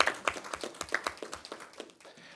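Round of applause at a quarterly press conference, a small group clapping in a brisk, uneven patter that starts fairly strong and thins out over a couple of seconds, no voices over it.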